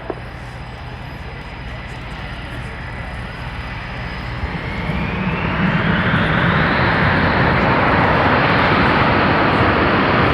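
U.S. Navy Blue Angels jets at an air show, a loud broad roar of jet engines that builds steadily and grows heavier as the aircraft get going, with a faint voice over it early on.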